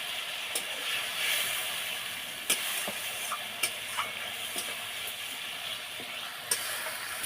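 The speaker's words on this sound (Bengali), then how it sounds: "অল্প একটু জল, মশলাটা ভালো করে মেশানোর জন্য একটু জল দিয়ে দিলাম" A little water added to frying masala for a Katla fish kalia raises a close, steady hiss and sizzle, with scattered clicks and spatula taps across it.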